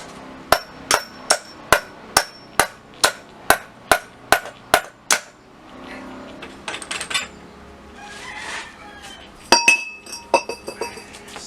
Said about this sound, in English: Yeah, there's a hammer.